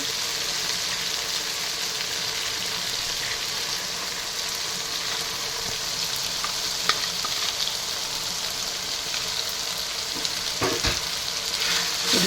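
Eggplant with spice powder is stirred in a frying pan for vangi bath, a continuous close sizzle broken by occasional utensil scrapes and clinks.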